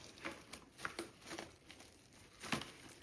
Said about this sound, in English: So gently placing on our cling wrap, trying to get all the crinkles out as best we can.